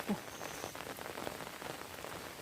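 Heavy rain pours steadily during a flood, a dense, continuous hiss of drops striking surfaces close by, with no voices over it.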